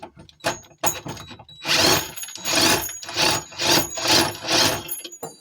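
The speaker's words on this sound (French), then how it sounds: "C'est peut-être là que la visseuse peut m'aider." Cordless power screwdriver working on a seized engine mount bolt on a Peugeot 205 GTI, heard as repeated loud whirring bursts, short at first, then longer rhythmic pulses, close by.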